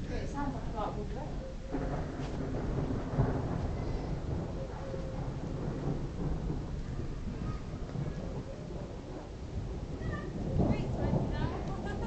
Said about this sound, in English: Thunder's right up here, so I guess. Thunder's everywhere, man.